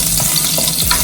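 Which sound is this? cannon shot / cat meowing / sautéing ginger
sautéing ginger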